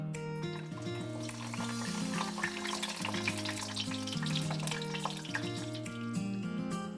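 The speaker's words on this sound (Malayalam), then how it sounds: "ഇനി നമുക്ക് എണ്ണയിലിട്ട് ഫ്രൈ ചെയ്യാം." Bolly snack dough frying in hot oil in a home kitchen: a steady, dense sizzle and crackle throughout, close and loud, with faint background tones underneath.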